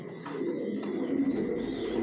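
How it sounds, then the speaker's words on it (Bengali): Racing pigeons coo in a breeding loft, with soft, low, rolling calls that repeat near at hand and continue without a break. "এটা হচ্ছে আমার ব্রিডিং লফ,"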